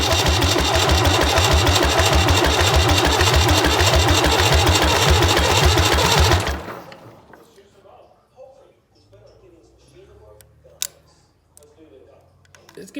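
A David Brown tractor's diesel engine runs with a loud, steady, rapid chugging for about six seconds, then cuts out, leaving near silence with a few faint clicks and taps.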